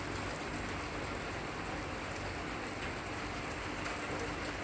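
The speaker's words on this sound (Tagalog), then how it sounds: "Umuulan. Habang kumakain ng pizza." Steady rain falling and pattering on a surface, a constant soft hiss throughout with no voices.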